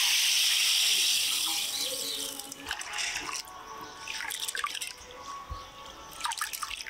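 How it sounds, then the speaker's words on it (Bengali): Rice and black gram lentils are washed in water by hand, starting with a steady pour or rinse that gives way to sloshing, dripping and small splashes, up close and without voices. "এখানে চাল ডালগুলো পরিষ্কার করে ধুয়ে নিলাম।"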